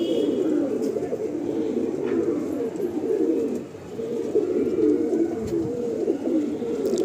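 Many pigeons coo together in a loft, a dense, continuous low burbling chorus that stays steady and close, dipping briefly midway, with no speech over it.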